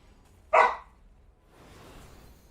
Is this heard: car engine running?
no